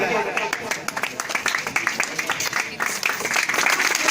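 Clapping from an audience at a stage event welcoming a leader, uneven and moderately loud, with crowd voices mixed in and talk running over the applause.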